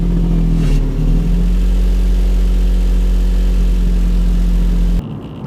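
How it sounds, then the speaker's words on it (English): A car engine cold-starts through a loud exhaust fitted with high-flow catalytic converters, giving a heavy, steady rumble at close range that cuts off abruptly near the end. "the car is extremely noisy on cold start now"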